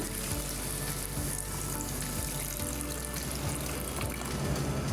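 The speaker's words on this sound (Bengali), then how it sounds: "অন্যদিকে একটি প্যানে দিয়ে দেব ধুয়ে রাখা ডাল" Washed lentils go into a pan and fry with a dense, steady, wet sizzle and crackle that stays close and even throughout, without any voices.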